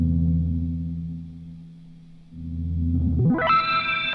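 Looped electric guitar drone drenched in effects, fading down then swelling back before pitch-shifting sharply upward into a bright, high warbling tone.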